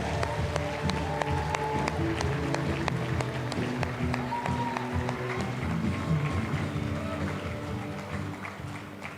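Steady applause from an awards-ceremony audience, with dense clapping filling the hall continuously at moderate volume. Faint background tones sit under it.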